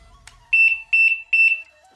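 An alarm padlock gives three pairs of sharp, high electronic beeps as it locks, evenly spaced, loud and close in a quiet room, preceded by a faint click.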